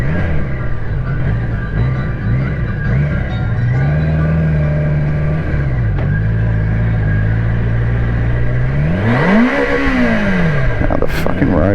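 A BMW K1200LT touring motorcycle on a city commute hums through steady riding, then revs up in a sharp climbing rise and drops back near the end, close and loud under wind rumble, with a rider's voice talking over it.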